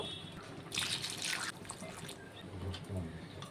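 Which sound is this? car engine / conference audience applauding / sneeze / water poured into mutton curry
water poured into mutton curry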